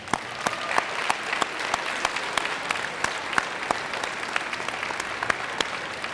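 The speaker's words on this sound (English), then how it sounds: "Let's give them a round of applause." A school audience at a Veterans Day ceremony claps for standing veterans, a steady sustained round of applause from a large crowd in an indoor hall, some individual claps standing out.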